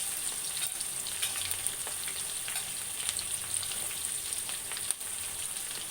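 Chopped onions sizzle and fry steadily in a pan for chicken curry, a close, continuous crackling hiss with no talk over it.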